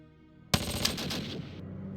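Intercept fire in the wartime strategy game Decisive Campaigns: Ardennes Offensive erupts as a sudden sharp burst of gunfire after a brief quiet, followed by a rattling tail that fades out.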